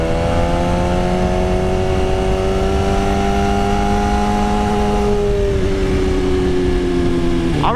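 A 2024 BMW S1000RR motorcycle engine holds a loud, steady, high-pitched howl close by through a turn, with the revs easing slightly before a brief dip near the end.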